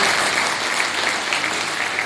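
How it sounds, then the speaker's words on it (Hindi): Loud, steady applause from an audience at a direct selling business event, dense clapping filling the whole stretch without a break or voices on top. "एक बार जोरदार तालियां नसीब गुरु जी की"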